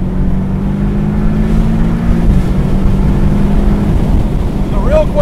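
A Porsche 718 Boxster S with a four-cylinder turbo engine drives on roads in Portugal, giving a steady close engine drone whose pitch dips partway through, as if shifting, before settling into an even hum.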